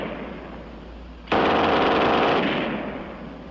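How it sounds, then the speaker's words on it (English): A German MG42 machine gun fires from a tripod in one long, loud, continuous burst that starts abruptly after a quieter lead-in and rattles on before tapering. "And last, the German 42 on the tripod."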